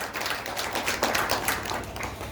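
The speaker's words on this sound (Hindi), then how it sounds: "जोरदार तालियों से उनका स्वागत करें" A short burst of audience clapping welcomes a lyricist at a poets' gathering and book launch in Jaynagar, Madhubani. The clapping is fairly soft and scattered, with quick overlapping hand claps and no talk.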